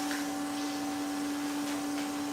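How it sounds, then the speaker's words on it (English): A vacuum drones steadily and loudly throughout while sucking up honeybees during a bee removal cutout, a constant motor whine with no breaks. "Let me vacuum the back side."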